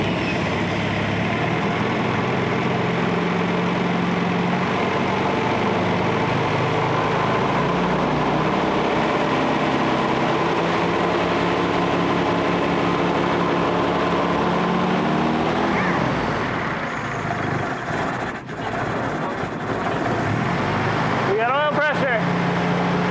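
The engine of a 1947 Willys CJ-2A that sat unrun for 30 years rumbles loudly and steadily up close, then dips briefly before clattering and sputtering near the end.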